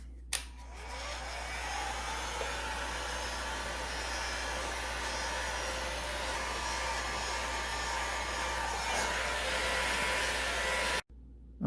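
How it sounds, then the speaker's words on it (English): A heat gun blows continuously while shrinking heat-shrink tubing over spliced heated-grip wires on a Harley Dyna, a steady loud whirring hiss with a low fan hum, switched on at the start and cut off near the end. "I'm going to take a heat gun to finish it up."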